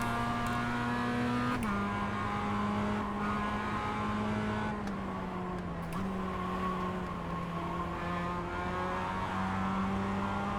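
A K5 race car at full throttle in iRacing, on a drying infield track at Las Vegas, gives a loud sustained engine drone whose pitch climbs and drops through several gear shifts, with no talking.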